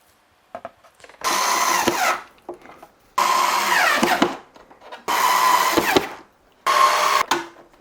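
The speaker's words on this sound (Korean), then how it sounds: "배사울의 나사 체결을 완료했습니다." A power drill or driver runs in four sustained bursts of about a second each, separated by short pauses, while screws are driven into the VESA mount of a Camel MSH-32 monitor stand during assembly.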